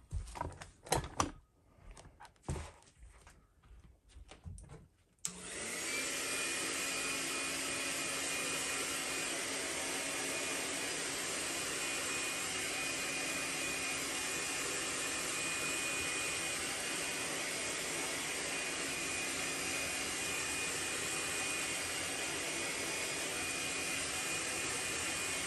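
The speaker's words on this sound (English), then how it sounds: "Let me go ahead and heat set this." A heat gun starts up after a few seconds of scattered handling clicks and then runs with a steady, even blowing whir while heat-setting paint on a fishing lure, no talking.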